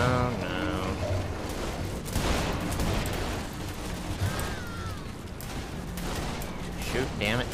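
Scattered gunshots and clattering bursts ring out in a Saints Row firefight, steady and fairly loud, mixed with voices and game noise.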